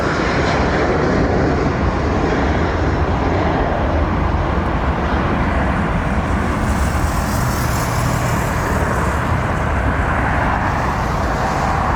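A huge airplane passes overhead, its engines a loud, continuous broadband roar with a deep rumble that holds steady for the whole span, heard near and alone without talking.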